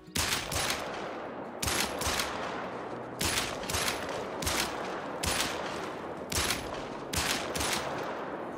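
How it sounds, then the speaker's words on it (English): Video-game gunshots from a 10mm Glock pistol fired at a bull in Call of the Wild: about eight loud, sharp shots come in pairs and small bursts across the span, with no talking. "We shot, what, five times into that bull?"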